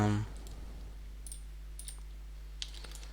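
A computer mouse is clicked during Minecraft play. Several faint, sharp clicks are spread out over a steady low hum.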